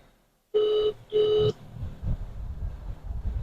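Two short electronic ringing tones sound in quick succession, like a phone ring, followed by low rumbling background noise.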